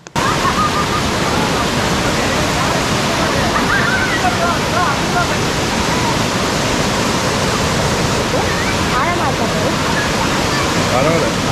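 Anguthi waterfall near Yelagiri Hills on a trekking trail, a steady, loud roar of rushing, splashing water filling everything without letup, with faint voices buried beneath it.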